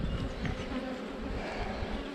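Honeybees drone steadily inside a large open hive during an inspection, a dense continuous buzz of many insects filling the space evenly at close range with no pauses.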